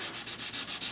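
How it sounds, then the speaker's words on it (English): Shellac-coated mahogany is hand sanded with 220-grit sandpaper, producing a quick run of soft rhythmic scratchy strokes, about six back-and-forth passes, close up and fairly quiet. "I've got some 220 sandpaper,"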